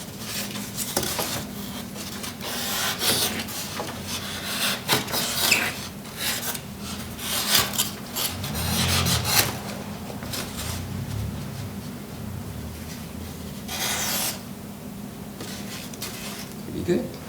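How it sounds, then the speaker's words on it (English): Sandpaper rasps against a styrofoam block during foam carving in repeated rough, scratchy strokes, uneven in rhythm and fairly close, with a person talking intermittently between and over the rubbing. "Some sandpaper."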